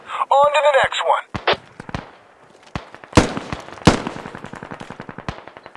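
Video game gunfire in a Mestia RAAS match, with sharp single shots followed by rapid automatic bursts, some loud and close and others fainter, over the voice of someone speaking near the start.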